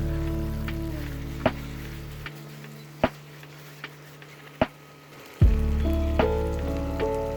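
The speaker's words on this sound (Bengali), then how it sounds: "আদা রসুনের গন্ধ চলে যাওয়ার জন্য একটু সতে করে নিচ্ছি" Ginger and garlic paste sautéing in a pan for chicken biryani makes a loud, dense sizzle and crackle with a few sharp pops and taps. A low hum drops out midway and then returns, and no one speaks.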